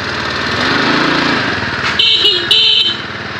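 A vehicle horn honks twice in short blasts at about two and two-and-a-half seconds over a steady running engine on a road in Cambodia, loud and close.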